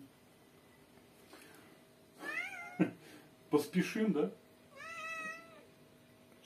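A pet cat meows close by, several drawn-out rising and falling meows with a pause between them, while a person talks quietly in the same room.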